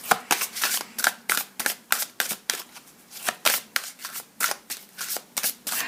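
Oracle cards are shuffled by hand in quick repeated riffles, a steady run of about twenty crisp papery bursts close to the mic, with no talking.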